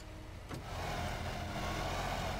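Inside the game Teardown, a sedan's engine hums as a steady low drone that swells slightly after a short click, continuous and moderately loud, without speech.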